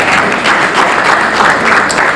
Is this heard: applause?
yes